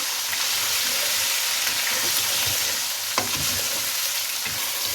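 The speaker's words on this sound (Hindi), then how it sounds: "अब इसमें लहसुन अदरक पेस्ट डाल के इसके साथ भून लें" Garlic-ginger paste sizzles and fries steadily in a pan, a dense continuous crackle with occasional stirring scrapes, no voices.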